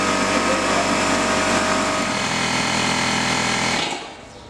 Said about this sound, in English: the compressor's pumped up now